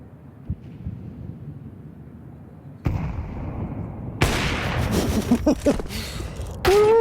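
Counter-Strike match play with bursts of gunfire from an AK rifle and pistols, loud and sharp against a constant game din, with more shots near the end.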